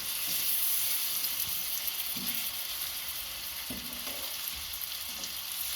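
Banana halves fry in a pan on a medium-high stove, a steady close sizzle and hiss with a few soft knocks of a utensil shifting the fruit, no voices.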